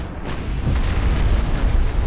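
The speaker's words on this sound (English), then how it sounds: "let's see if we can get these torpedoes off" Torpedo launches from warships in a naval strategy video game set in early-1900s Japan, heard as a sustained rumbling burst of booming, explosive low thuds lasting about two seconds, loud and continuous with no talk.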